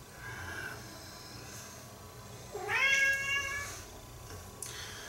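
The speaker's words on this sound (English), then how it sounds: "And I have a cat." A house cat gives a single clear, rising meow near the middle, close and moderately loud over quiet room tone, with faint shuffling before and after.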